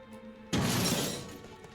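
In the video game Detroit: Become Human, a sudden loud shattering crash breaks in after a quiet stretch, then the debris rattles and fades away.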